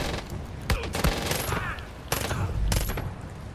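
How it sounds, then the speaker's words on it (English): Gunfire in a Far Cry 5 arcade map, a few loud separate bursts of rapid shots with mechanical clatter between them, close and under a player's speech. "it is just faster for me to shoot all the enemies up in their face"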